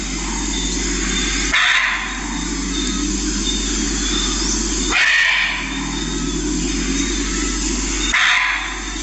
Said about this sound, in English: Deer's sound is bell.